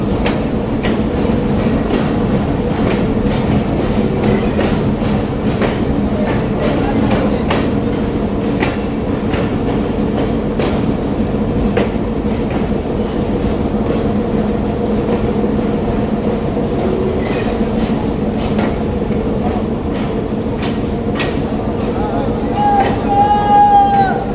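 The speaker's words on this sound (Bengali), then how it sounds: "দর্শক, আমরা খুলনা থেকে যাত্রা শুরু করে চলে এসেছি যশোর রেলওয়ে জাংশনে।" A train at Jessore railway junction late at night gives a steady loud rumble with rhythmic wheel clacks, and a brief squeal near the end.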